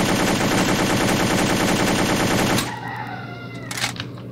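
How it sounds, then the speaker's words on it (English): A WOG RPK airsoft rifle fires a long full-auto burst, a loud rapid buzzing rattle of shots that stops abruptly and leaves quieter mechanical clicks and handling noise. "It sound like the RPK have more rate of fire."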